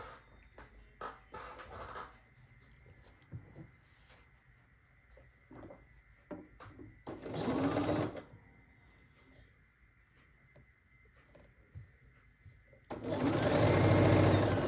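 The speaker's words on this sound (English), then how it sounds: "we're going to take a rectangle and we're going to sew down the side, just like this" A sewing machine stitches down the side of a fabric rectangle in two loud whirring bursts, separated by quieter stretches of handling clicks and fabric rustle.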